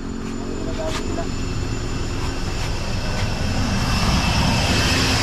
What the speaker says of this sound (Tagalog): sige, patayin mo muna makina natin